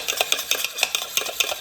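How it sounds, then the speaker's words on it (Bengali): A yogurt starter is whisked briskly in a bowl, giving rapid rhythmic scraping and tapping strokes at close range with no talking. "দই বীজটা এবার খুব ভালোভাবে ফেটে নেব।"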